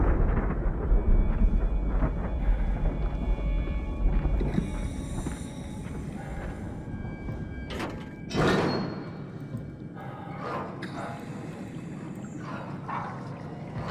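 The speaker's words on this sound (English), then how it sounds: "Should we be hearing thunder at this depth?" Low rumbling like thunder deep underwater in the video game SOMA, loud at first and fading, broken by sliding door and metal thuds, with a sharp clank near the middle.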